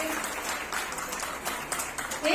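Applause from the audience at a Brahmin women's society award ceremony honouring ideal mothers- and daughters-in-law, a dense steady clapping that lasts a couple of seconds, moderately loud, then swells at the end.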